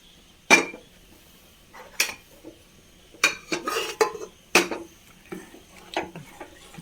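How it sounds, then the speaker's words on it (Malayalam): Spoon stirring Kerala-style roasted-coconut sambar in a metal pot, with sharp scraping clinks against the side at an uneven rhythm, some quick clusters of knocks, close and clear with no voices. "നന്നായി ഇളക്കി കൊടുക്കാം"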